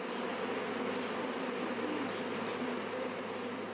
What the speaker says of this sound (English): Hear that? The sound of bees.